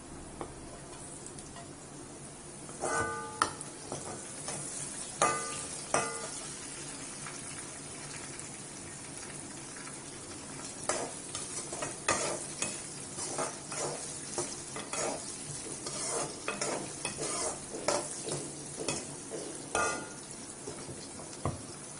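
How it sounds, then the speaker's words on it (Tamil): Green chillies fry in a pan with cooked potato for a chaalna kurma, giving a faint continuous sizzle broken by frequent scraping stirs and occasional metallic clinks, with no talking. "முதல்ல பச்சை மிளகாய் போடுறோம்."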